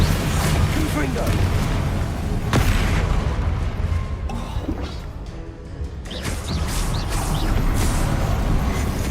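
Confringo fire spell blasts in Hogwarts Legacy, a dense, loud stretch of booming impacts and crashes with sharp hits near the start and middle, layered over game music and effects while a voice speaks.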